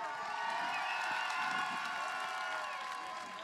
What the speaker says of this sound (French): Mesdames et messieurs, applaudissements s'il vous plaît.